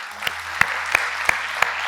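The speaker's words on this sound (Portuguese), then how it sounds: "Quantos podem aplaudir o nosso Deus?" Applause in a church service, heard as a few sharp claps at a steady, evenly spaced rhythm over a low background hum.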